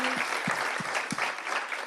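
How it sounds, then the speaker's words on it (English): Panelists at a World Health Assembly session on crisis response receive a short burst of audience applause, dense room-filling clapping with several distinct close claps landing at regular intervals. "Please join me for a round of applause for our panelists"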